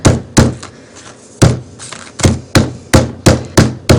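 A hammer pounds tin foil against a concrete surface with a series of loud, close, sharp thuds, irregular at first, then settling into a steady beat of strikes.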